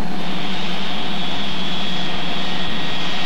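An axial flow jet engine runs steadily with a broad, dense roar and a high whine held throughout, loud and unchanging, with no voices.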